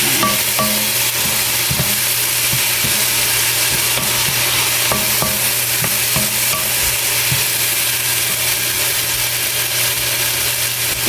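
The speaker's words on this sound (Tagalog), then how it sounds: "Pag nasutay na natin to guys, siyempre halo-haloin muna natin." String beans sautéed with shrimp sizzle loudly in a pan while being stirred, a constant close frying hiss with scattered scraping and clinking of the utensil.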